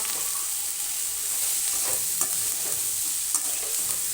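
Cauliflower fries in a pan while being stirred, a continuous close sizzle with scraping stir strokes and light knocks repeating through the few seconds.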